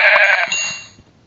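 A single sheep bleats in a video game, one loud wavering bleat at the start that trails off into quiet within about a second.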